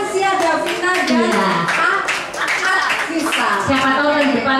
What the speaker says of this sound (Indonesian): sekali lagi tepuk tangan untuk 10-3 kelompok